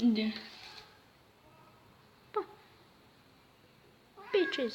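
A cat in a garage meows three times, close by: a loud cry at the start, a short chirp partway through and a longer meow at the end, with brief human speech near the opening.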